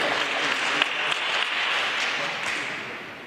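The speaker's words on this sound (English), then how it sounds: "That deserves an applause" An audience at a press conference applauds, a steady dense patter of clapping that holds throughout and tapers slightly at the end.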